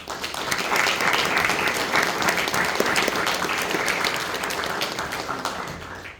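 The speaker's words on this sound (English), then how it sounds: "Please join me in a round of applause for them." Sustained audience applause at an outdoor Wreaths Across America memorial service in Novelty, Missouri, honouring the event volunteers; steady, even clapping from a moderately distant crowd throughout.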